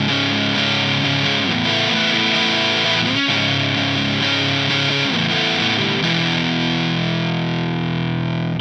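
A loud, distorted electric guitar plays the chugging power-chord riff of a song, chords changing every second or so, then ringing out before cutting off.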